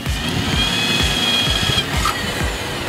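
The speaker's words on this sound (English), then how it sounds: "Previously marked holes should be bored by a thin drill with diameter of 3 to 5 mm" An electric drill with a thin 3 to 5 mm bit, then a 7 mm bit, whirs steadily in short repeated bursts, grinding as it bores holes to mount a liquid level sensor, close and loud with no talking.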